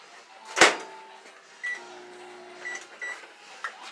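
A sharp clunk of a microwave door, then the machine's short beeps and button presses with a faint hum in a quiet kitchen.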